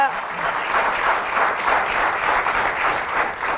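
Audience applause for psychotherapist and clinical director Pedro Brás, a steady, dense wash of clapping hands filling the room throughout, close and even without breaks.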